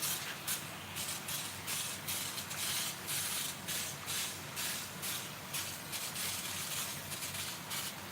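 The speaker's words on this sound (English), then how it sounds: "So I'm going to go ahead and rinse this out now." A steady broadband spray of water rinses out a part from a Kawasaki FE290D small engine over a garbage can, a continuous hissing wash with slight pulsing and no talk.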